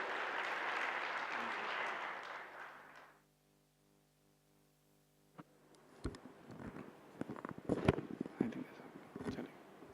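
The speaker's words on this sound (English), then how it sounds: "Please give a big round of applause to Brother Bhavesh Panchal." An audience at an inaugural retreat session gives a full, even burst of clapping for about three seconds. It then cuts to near silence, followed by faint scattered knocks and movement.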